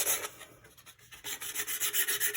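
Sandpaper rubbed back and forth along the edges of a small wooden piece for a craft project, a close, steady rasping in rhythmic strokes with a brief pause near the middle, heard alone with no talking.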